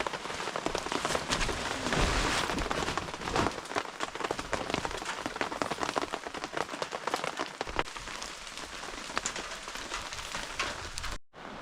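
Steady heavy rain in Alaska pours onto rain gear and surrounding surfaces, a dense continuous hiss of drops from start to finish with no voices, cutting off abruptly just before the end.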